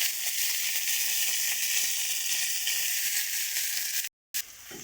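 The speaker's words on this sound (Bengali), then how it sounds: "মূলো আলু আর বটবটি কড়াই একটু ভালো করে ভেজে নেব।" Radish, potato and brinjal fry in a wok, a steady loud sizzle with bright hissing that holds evenly, broken by a short silent gap near the end before resuming.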